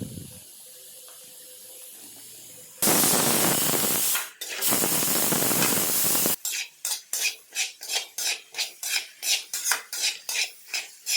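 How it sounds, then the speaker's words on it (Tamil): Sliced onions are stirred in a pan with a ladle. A loud hissing sizzle comes first, then a quick run of rhythmic metal scrapes and clatters as the ladle works the pan, close up and without talk. "இப்போ வந்து கரண்டியில் நல்லா கிண்டி விட்டுக்கலாம்"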